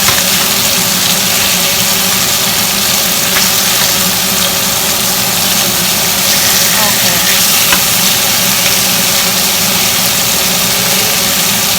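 Salmon sizzles in a pan of garlic, butter and olive oil, a steady loud frying hiss that runs throughout without a break.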